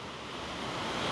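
The steady, broad rushing roar of Fitzroy Falls waterfall, heard from a nearby lookout, continuous and even with no other sounds.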